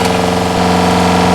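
A pump hums steadily aboard a sailboat while a tap runs, with a low motor drone and faint flowing water, close and continuous.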